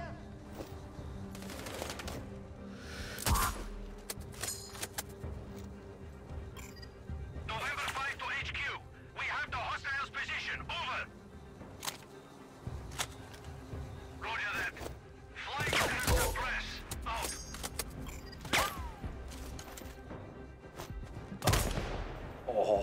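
Gunfire in the Sniper Ghost Warrior Contracts 2 shooter during a market firefight: scattered sharp shots and bursts, some loud and close, over a low ambient hum, with brief game voice lines between them.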